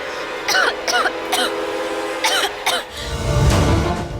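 A person coughs repeatedly inside a dusty room: five or so harsh, close bursts in two clusters, followed by a low rumbling background.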